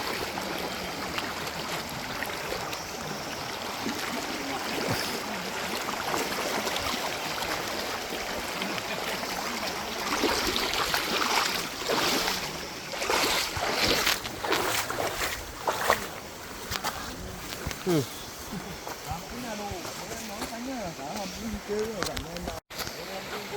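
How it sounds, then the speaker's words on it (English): Splashing and sloshing water from footsteps wading steadily through a shallow stream inside Son Doong cave, with echoing voices talking under the watery churn. "Hiking through the water."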